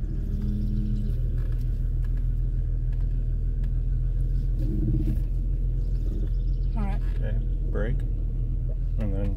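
A car's engine rumbles low and steady throughout as it is eased slowly into a garage, with people talking over it and a few brief chirps breaking through.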